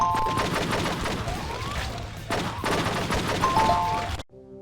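Rapid gunfire rattles out in the video game True Crime: Streets of LA, two loud sustained bursts of shots broken by a brief pause before cutting off abruptly near the end.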